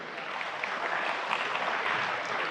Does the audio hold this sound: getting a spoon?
no